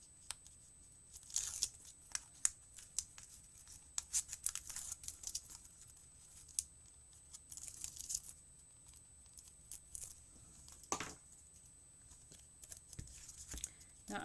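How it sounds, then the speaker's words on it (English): Backing paper peeled off an adhesive sheet for a layered edgable, heard as faint intermittent tearing and crackling strips scattered over a quiet, steady background hiss, close and soft. "Pull up all the backing paper."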